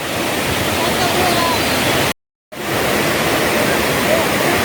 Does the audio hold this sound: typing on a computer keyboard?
no